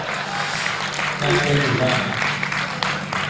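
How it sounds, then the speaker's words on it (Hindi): Audience clapping at a Hindi-Urdu poetry mehfil, a sustained patter of many hands mixed with voices and murmuring throughout, moderately loud and close. "लेकिन ताली आपने बराबर बजाई।"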